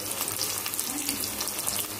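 Chopped onions and tomatoes fry in a pan, giving a constant moderate sizzle with small crackles and light stirring, heard alone at close range without speech.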